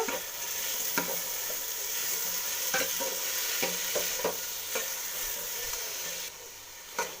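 Tomatoes sizzling steadily in a pan, with a spatula scraping and tapping at irregular intervals close by.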